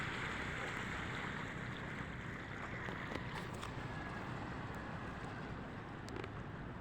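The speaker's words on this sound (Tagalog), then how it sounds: "Malakas na alon dito." Steady rushing water and wind noise as strong waves hit a boat, a continuous churning wash with faint knocks, no voices.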